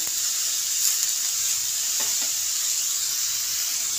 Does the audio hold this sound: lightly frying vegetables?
yes